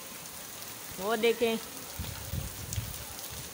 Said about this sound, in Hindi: अभी अचानक बारिश शुरू हो चुकी है। ये देखें बहुत तेज़ बारिश है।